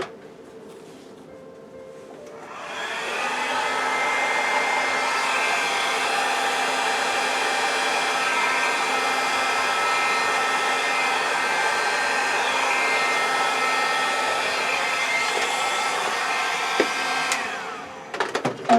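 A hair dryer blows across a wet acrylic paint pour, switching on after a quiet moment and whooshing at steady volume for about fifteen seconds before cutting off with a few clicks.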